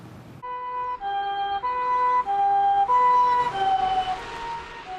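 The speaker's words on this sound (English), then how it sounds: "when you hear that sound of an ambulance" Ambulance siren during the aftermath of a tsunami in a Japanese town: a steady two-tone wail that alternates pitch every second or so, loud and continuous throughout, with no talking.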